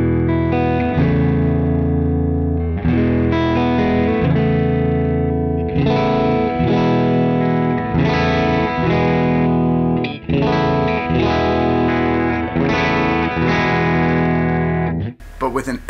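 A G&L electric guitar with wide-range, warm single-coil pickups plays a string of chords and riffs through a slightly driven tone, ringing full and loud, ending with a brief noise burst.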